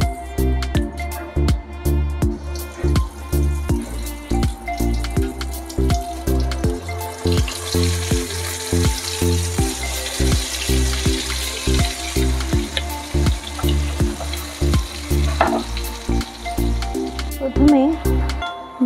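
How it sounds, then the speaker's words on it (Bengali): Fritters made from two kinds of lentil batter fry in plenty of hot mustard oil, giving a steady, loud, crackling sizzle with rhythmic popping that carries on throughout. "আমি বড়াগুলো ভাজার জন্য অনেকটা পরিমাণে তেল দিয়েছি।"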